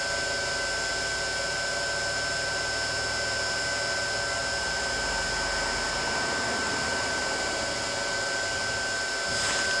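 A glass crusher's new electric motor runs steadily, a continuous whirring hum with sharp high tonal whine, constant in level throughout with no talking.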